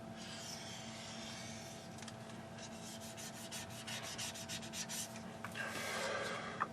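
A scale NASCAR model car gets burnished with steady rubbing strokes, quick and scratchy, close up and fairly quiet over a low background hum.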